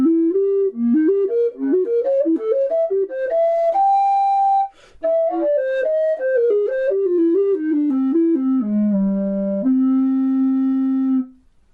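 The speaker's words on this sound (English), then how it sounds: "next I have the bass recorder, and here you will really notice a difference." A solo bass recorder plays a clear, breathy melody of stepwise notes, closely miked and unaccompanied, ending on a long held low note.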